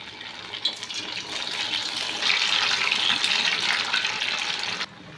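Dal bati dough balls frying in hot oil make a steady, close sizzling hiss that swells louder after a couple of seconds and holds before cutting off near the end, with no talking.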